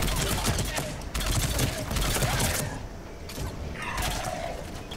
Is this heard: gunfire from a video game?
yes